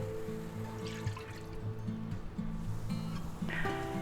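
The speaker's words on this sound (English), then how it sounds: "now we're going to add about a half a cup or a cup of beef" Beef stock pours into a cooking pot with chuck roast drippings, a soft trickling and dripping of liquid over a low steady hum, close by.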